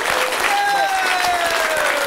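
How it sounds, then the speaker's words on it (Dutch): Studio audience applauds guest Jacobi on a Dutch fan show, a dense, steady wash of clapping with a faint tonal whistle running through it. "Voor die komst hier even een applaus voor Jacobi."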